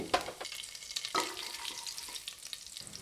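Cumin seeds and black peppercorns sizzle and crackle steadily in hot ghee, with occasional scraping stirs, close and continuous without any talking.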